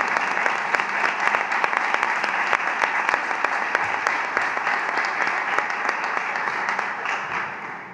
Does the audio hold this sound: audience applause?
yes